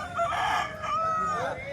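A rooster crows loudly and close by at a busy hen market in Bhadradri Kothagudem, with a long drawn-out harmonic call.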